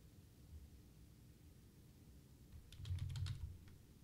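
Brief burst of typing on a computer keyboard in a live trading room, a quick cluster of soft key clicks near the end of an otherwise quiet stretch, close and faint.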